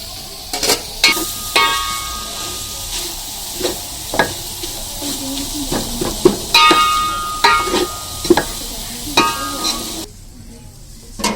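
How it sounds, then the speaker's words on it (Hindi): Shredded beef for haleem is stirred in a large cooking pot, with repeated clinking and scraping strokes of a ladle over a steady sizzling hiss. "अब अच्छे से इसको मिक्स करेंगे।"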